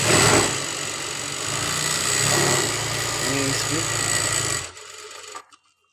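A Juki sewing machine runs at speed setting 27 with a steady, close mechanical whir and rattle for several seconds, then stops abruptly, with faint tapping afterward.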